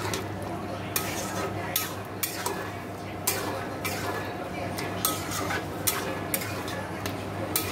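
Spices being stirred and fried in a cooking pan for ghugni, with repeated scraping and clinking of a metal spoon against the pan over a low, steady sizzle, close and moderately loud.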